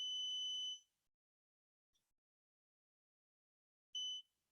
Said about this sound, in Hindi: और साउंड यहाँ से आपको बजर में से सुनाई दे रहा है।